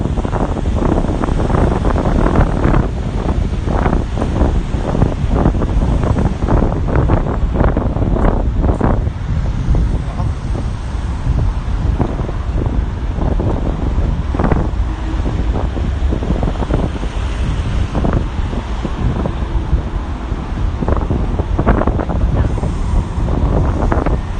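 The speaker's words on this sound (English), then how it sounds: "It's very windy here." Strong wind in Akihabara, Tokyo, buffets the microphone with a constant roaring rumble, gusting throughout, with faint voices barely audible beneath it.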